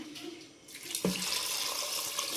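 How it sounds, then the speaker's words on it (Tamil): Rice-washing water is poured into a pressure cooker holding mutton soup, a steady close splashing stream that starts with a soft trickle and then strengthens to a full, continuous pour. "நம்ம அரிசியை வந்து களைஞ்சி வச்ச தண்ணி, இந்த தண்ணி தான் நம்ம வந்து சூப்புக்கு ஊற்றணும்"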